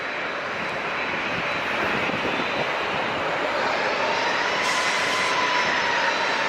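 A Sun Country jet airliner at San Diego International throttles forward to line up, a steady broadband engine roar that holds and gradually swells, heard at a distance with no voices.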